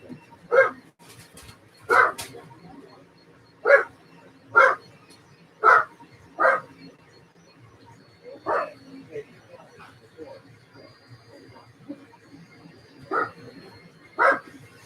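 A house dog barks at a neighborhood horse going past outside, roughly ten sharp barks spaced out irregularly over fifteen seconds, moderately loud against a faint background.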